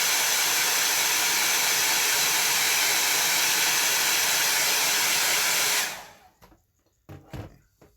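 A hair dryer blows steadily and loudly to dry a landscape painting, a constant broadband roar that cuts off after about six seconds, leaving a few faint handling knocks and rustles.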